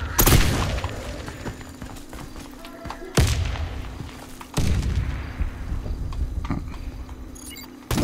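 Grenade explosions and gunfire in Warface Breakout, a multiplayer shooter game: a loud close blast, then two more heavy booms seconds apart, with scattered rattling shots and clatter between them.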